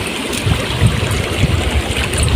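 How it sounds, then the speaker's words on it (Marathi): A large river rushes near a waterfall, making a loud, continuous roar of flowing water close by, steady and broad with no voices. "हां या कसा धबधबा खूप मोठी नदी आहे"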